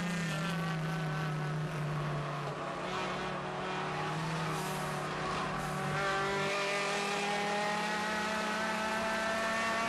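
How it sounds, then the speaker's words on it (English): A touring car on a race circuit drones at high revs, bouncing off the rev limiter with a sustained, buzzy engine tone that holds steady and loud from start to finish. "He's hitting the rev limiter, he's just trying too hard to slow himself down in the process."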